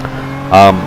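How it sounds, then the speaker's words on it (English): A racing car engine in a racing video game revs sharply for a brief loud burst, a harmonic engine whine standing out over a low steady drone. "I'm in heaps of fuel, so I'm just revving out the engine as much as I can."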